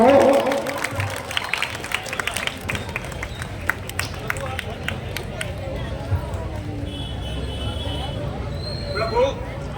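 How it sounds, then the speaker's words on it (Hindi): A live audience claps loudly through a folk devotional performance, the applause steady and mixed with crowd hubbub and voices. "जोर से ताली बजाइए"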